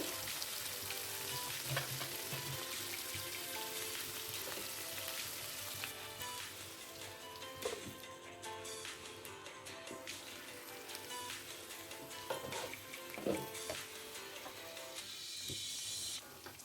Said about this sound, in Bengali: ভালোভাবে ঢাকা চাপা দিয়ে একটু সময় নিয়ে পেঁপের টুকরোগুলোকে ভেজে নিতে হবে